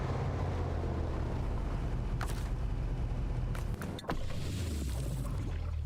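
A truck engine in the SnowRunner video game drones steadily with a low rumbling hum, a few short mechanical whines and clunks rising over it, continuous and close.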